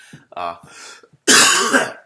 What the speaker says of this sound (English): it's COVID cough